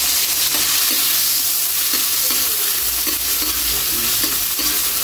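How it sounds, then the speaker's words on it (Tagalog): Onions sauté for chicken menudo, giving a loud, continuous sizzle in a hot pan with repeated scraping and stirring strokes throughout. "Kaylee lagay natin sibuyas. Ikot muna natin yan."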